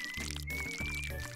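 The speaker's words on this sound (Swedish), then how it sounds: "Så vi ska bara hälla ner den här i ett glas då, Puckins." Thick, slimy yellow banana drink is poured into a glass, a short wet pour heard close up over a steady musical tone.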